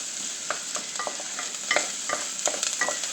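Garlic sizzling and frying in a pan of vegetables for brown sauce, with a utensil stirring and scraping in soft, irregular strokes over a steady hiss.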